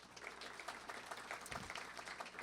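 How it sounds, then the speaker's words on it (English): An audience at a community college fall convocation applauds, a dense steady patter of clapping from many hands filling the room throughout, moderately loud and without pause. "How about a round of applause for"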